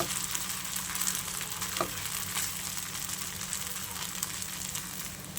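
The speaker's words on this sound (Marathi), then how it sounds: "चला तर आता फ्राय करून घेऊया तर अगदी दोन ते तीन चमचे मी तेल घातलेलं आहे आणि तेलावर हे टाकून घेऊया" Sabudana fries cook in a few spoons of oil in a pan, sending up a steady, moderate sizzle with faint crackles and no voices.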